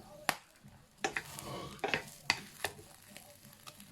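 Giant water bugs frying in a pan, for a tuna chili paste, as they are turned over: steady sizzling with repeated sharp scraping and clattering of the utensil against the pan, close up, no talking.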